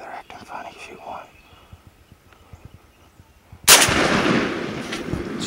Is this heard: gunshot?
yes